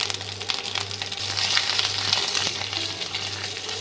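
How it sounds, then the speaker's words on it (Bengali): Grated ginger, two spoonfuls, sizzles and fries steadily in hot oil for a Bengali vegetarian dhoka dalna, a dense close hiss that swells slightly midway, with a steady low hum beneath and no voices. "আমি তেলেতে আদাটা গ্রেট করা ছিল সেটা দিয়ে দিলাম দু চামচ আদা"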